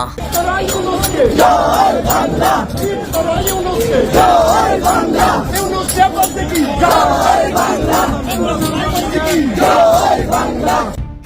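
A dense protest crowd chants slogans in rhythmic waves on the streets of Dhaka, loud and continuous, with voices rising and falling in repeated call-like phrases throughout.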